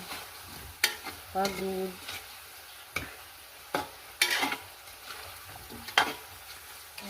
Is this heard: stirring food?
yes